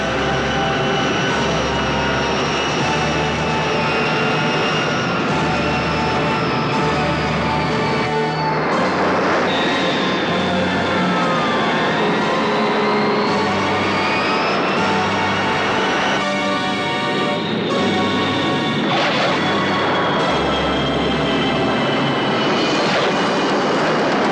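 Airliner engines roar loudly and steadily throughout the landing, with low rumbling surges, rising and falling whines and a few sharp transients.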